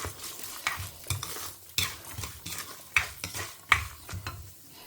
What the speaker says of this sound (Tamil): உளுத்தம்பருப்பு, கடலப்பருப்பு போட்டுக்கிறேன்.